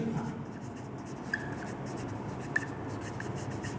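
Writing on a board during an English grammar class, soft repeated scratching strokes with a couple of sharp taps, over a steady room hum, no clear talk.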